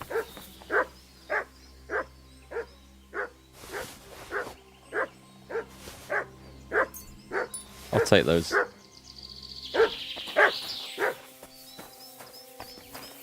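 Dog barking in the medieval video game Kingdom Come Deliverance 2: a steady run of sharp, evenly spaced barks, with a voice speaking briefly over them partway through and a whining, yelping stretch toward the end.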